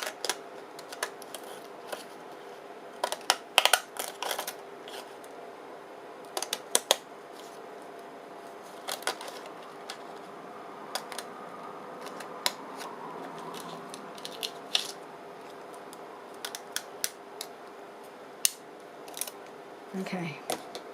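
Zigzag craft scissors snip paper ephemera in short, crisp, intermittent clicks and crunches, close and fairly quiet over a hushed room, with a few louder bursts of cuts scattered throughout.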